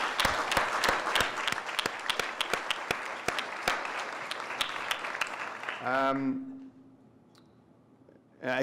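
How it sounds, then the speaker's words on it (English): An audience applauds at the close of a panel talk on diversity in Canada. Dense clapping runs for about six seconds, then fades as one voice speaks briefly. "this might not be the last round of applause, but I think you'll join me in thanking them"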